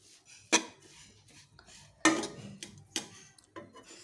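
Puffed rice upma (borugulu) stirred in a metal pan with a spoon, a few sharp clanks of utensil against the pan separated by quieter scraping and light taps, close and without talk.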